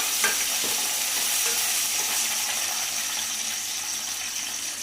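Garlic and two green chillies sautéing in a pan for a homemade fish curry, giving a steady close sizzle with occasional stirring scrapes throughout, no voices.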